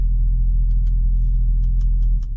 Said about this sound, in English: you're gonna have a little bit better sound in terms of the engine and the exhaust